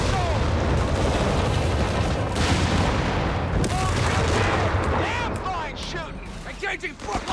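Incendiary bombing strike in the World War II strategy game Company of Heroes 3, loud overlapping booms, crackling fire and bursts of gunfire in a chaotic battle din, with voices shouting over the noise.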